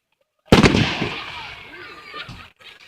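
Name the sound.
fireworks exploding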